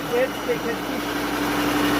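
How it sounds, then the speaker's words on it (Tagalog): A ring blower runs steadily at a tilapia hatchery and nursery in North Cotabato, a constant mechanical hum with a faint tonal whine, continuous throughout while people talk nearby. "Ring blower. Ring blower."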